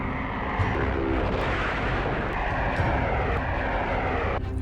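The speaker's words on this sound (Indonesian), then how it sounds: "pasukan sekutu menyerang kamp-kamp Jepang dengan pesawat tempurnya" Allied fighter planes attacking Japanese camps in a war film, a continuous loud droning roar of aircraft engines with faint bursts and impacts underneath.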